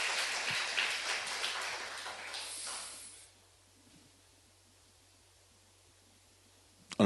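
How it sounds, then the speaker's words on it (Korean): A church congregation at a Sunday worship service claps in a dense, hissing burst of applause for about three seconds, then it cuts off into near silence. "죽음에서 구원하신 하나님께 영광의 박수를 드립니다."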